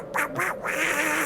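A duck gives a few raspy, nasal quacks in quick succession, close and fairly loud, with a Donald Duck–like tone; the calls come in short bursts and then a longer drawn-out one.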